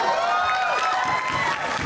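Convention panel audience at Anime Expo 2009 for Robot Chicken, a brief burst of clapping and cheering with shouts from the crowd in a large room.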